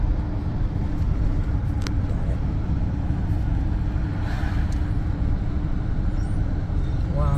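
Car driving along a road in Wrightstown, Wisconsin, heard from inside as a steady low rumble of engine and tire noise, continuous and close, with no talking in the clip.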